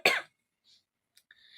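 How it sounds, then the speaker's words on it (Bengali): A single sharp cough at the start, close and fairly loud, followed by near silence with faint small sounds. "কাশিটা আবার শুরু হয়ে গেছে"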